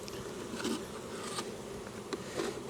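Honey bees buzzing at a hive being fed syrup for winter, a dense close hum of many insects with individual bees droning past.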